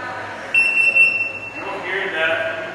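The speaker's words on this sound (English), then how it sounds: "It beeps if you go out the exit" An RFID security exit gate in a university lab gives a single steady high-pitched electronic beep lasting about a second as tagged jeans pass through, heard close amid room noise and faint talk.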